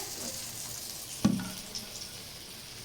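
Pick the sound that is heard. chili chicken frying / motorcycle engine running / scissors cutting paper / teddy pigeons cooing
chili chicken frying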